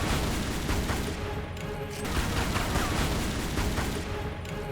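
Rapid gunfire aimed at a centaur in the Tomb Raider Anniversary video game, a dense continuous volley of game gunshots at steady loud level.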